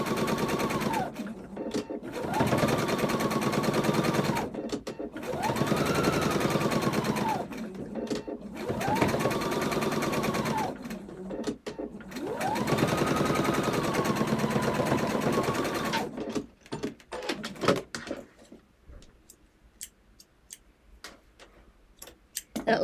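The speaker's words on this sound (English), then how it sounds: "I'm using the edge of my presser foot along the edge of the fabric." A sewing machine stitches a foundation paper pieced quilt block in several long, steady runs of fast rhythmic ticking, close up, broken by short pauses and ending in quieter handling noises.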